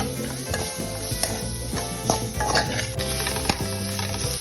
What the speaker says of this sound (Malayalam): ആ പാനിലേക്ക് തന്നെ നമ്മൾ സബോള ഇട്ടു. ഇനി അത് നന്നായി വഴറ്റാം